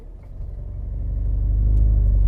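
Volkswagen Arteon R-Line engine idling and building revs before a launch-control start, a deep close rumble that grows steadily louder over a couple of seconds.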